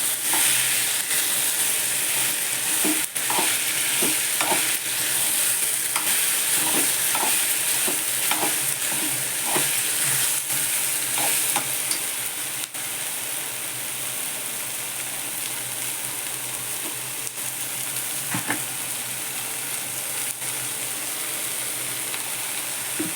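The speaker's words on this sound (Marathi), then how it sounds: "फक्त तेलावर परतून घ्यायची भाजी" Ridge gourd and moong dal sauté in oil with a steady, close sizzle, and a spoon taps and scrapes the pan in a run of light strokes before the frying hiss carries on alone.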